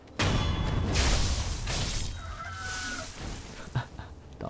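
A chicken in the video game Sekiro, heard as loud, close clucking and squawking amid a burst of game noise, followed by a short quieter tail.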